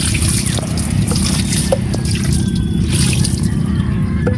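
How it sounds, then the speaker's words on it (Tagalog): Fresh water running and splashing over a salt-crusted outboard boat engine during rinsing, a steady close trickle and gurgle with faint drips throughout. "Ang ililinis po dyan ay tabang na tubig."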